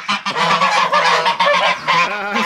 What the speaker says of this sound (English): Glenn and Gwen, the geese, Canadian geese